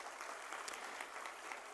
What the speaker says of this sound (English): A round of applause for this Mumbai entertainment industry